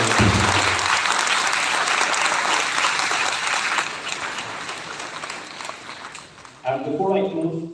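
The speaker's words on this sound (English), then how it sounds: "Give them a round of applause" An audience at a business school event applauds participants, broad sustained clapping that fades before a voice briefly talks at the end.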